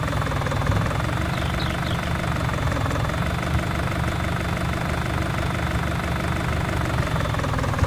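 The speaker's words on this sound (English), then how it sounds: "Let me hop in the little tractor here." A small tractor engine idles and runs in Farming Simulator 19, a loud, steady, unbroken mechanical drone heard close up without talk.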